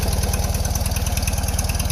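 An old engine, running for the first time in 50 years, idles steadily with a low, rhythmic chugging pulse and a continuous mechanical rattle, loud and close.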